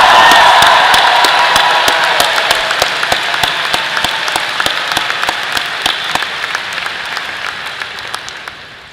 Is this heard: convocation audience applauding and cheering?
yes